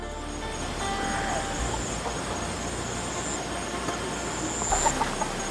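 Chickens roosting high in trees cluck and call sporadically in the background over a steady outdoor hum, with a brief burst of louder clucking near the end.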